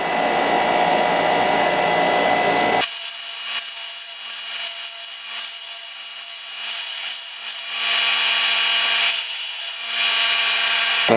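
A tool grinding and smoothing the edges of holes drilled through workbench wheel-lift material, a loud continuous whirring rasp that shifts in pitch and pressure, close up and alone.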